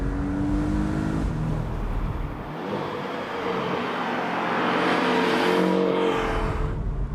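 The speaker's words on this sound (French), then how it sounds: "c'est vrai que c'est un bruit spécifique, hein, les 6 cylindres Boxster vraiment à plat là" A Porsche 718 Boxster's engine in sport mode hums and revs steadily, a continuous fairly loud drone that swells and eases slightly throughout.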